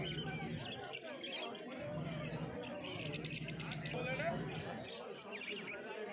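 Small pet parakeets chirp and tweet busily in rapid, overlapping bursts at a pet market, with a person talking over the chatter throughout.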